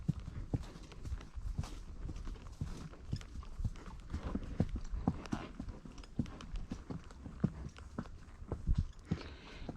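Several horses walking community trails, hooves clip-clopping in an uneven, continuous rhythm on the ground, fairly soft and close.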